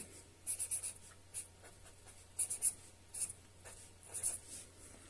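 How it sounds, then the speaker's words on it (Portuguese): Writing on a board in a physics lesson, quick squeaky scratching strokes in short bursts, close and clear in an otherwise quiet room, with no talking. "Então, vamos escrever aqui, movimento"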